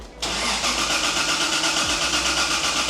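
A Toyota Supra's 5M-GE engine, struggling to start, cranks and catches after a brief moment, then runs roughly at a loud, uneven idle with a wavering rumble.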